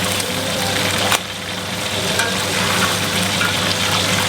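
Marinated chicken pieces frying in hot oil until browned, a loud continuous dense sizzle over a low steady hum, with a single sharper tap early on.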